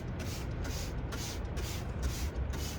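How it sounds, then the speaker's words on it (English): A spray bottle of citrus grill cleaner fired repeatedly in a steady rhythm, about six short hissing bursts under a constant background hum. "Spray it very liberally"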